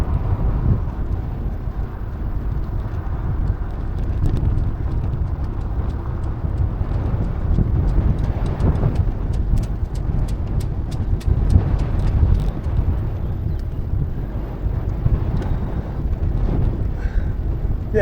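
Wind blows across the microphone during a bike ride along a rural road near the Richebourg cemeteries, a steady loud rumbling buffet that continues throughout with a faint patter of clicks partway through.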